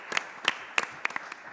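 A handful of scattered, fairly faint hand claps from an audience at a small theatre gathering, a few sharp slaps spread unevenly over a second and a half.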